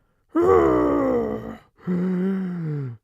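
A voice imitates the deep, rasping, Darth Vader-like breathing of a troll rug: two long groaning breaths, one inhale then one exhale, close and loud.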